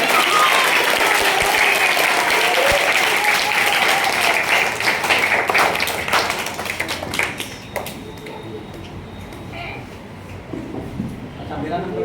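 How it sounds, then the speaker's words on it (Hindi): Loud applause from an audience at a girls' school event, a dense wash of clapping that fades toward the end, with talk over it. "जोरदार तालियां बजाएं।"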